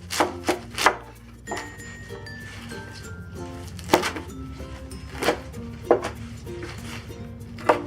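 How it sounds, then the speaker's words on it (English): A knife chops dandelion greens on a cutting board, about a dozen close, sharp cuts in uneven bursts over steady kitchen background. "For the prep, let's begin with cutting the greens."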